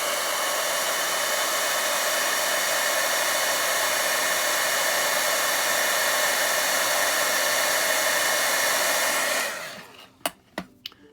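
A heat tool embosses gold powder on a handmade Christmas card, blowing a loud, steady, close hiss for about nine seconds before cutting off, followed by a few sharp clicks.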